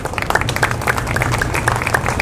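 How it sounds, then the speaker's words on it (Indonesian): Congregation applauding in a church during a sermon, a steady patter of many hands clapping with scattered sharper claps and a low crowd murmur underneath. "Tepuk tangan jangan tanggung-tanggung"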